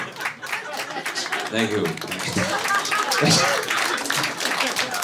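A comedy club audience claps in a scattered, uneven patter while a performer talks over the applause.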